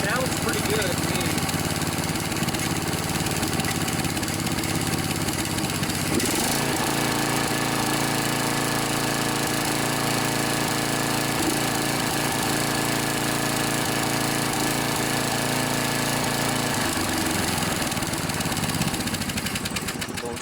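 A Snapper riding lawnmower engine runs steadily throughout, a loud continuous mechanical drone with a slight change in pitch partway through, heard up close without talk.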